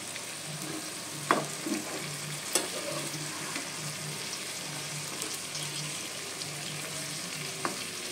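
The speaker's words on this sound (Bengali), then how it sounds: "তো খুব ভালো করে এটাকে কষাতে হবে এখন" Spice paste of ginger, cumin, onion, garlic, tomato and green chilli sizzles and fries steadily in a pan while being stirred, with a few sharp scrapes of the spoon standing out over the constant crackle.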